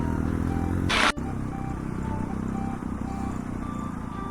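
A motorcycle climbs uphill in first gear on a rough off-road mountain track near Hikkim, its engine a steady, close drone with a brief clunk and dip early on.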